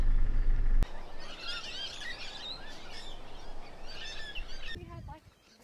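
Native birds at an Eyre Peninsula campsite in South Australia chirp and twitter in quick, scattered bursts at moderate distance. A heavy thump opens the scene, and faint human voices mingle with the birdsong.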